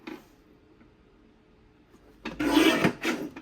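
Paper is trimmed on a cutter, sized for a memory wallet made from 12x12 paper: quiet room tone, then a short loud rasping slide of the blade through the sheet near the end.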